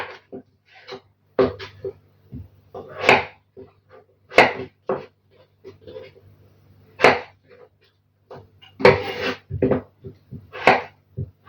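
Sharp knife chops on a cutting board come in uneven bursts, each a crisp thunk through firm zucchini cut into sticks, with short quiet gaps between cuts.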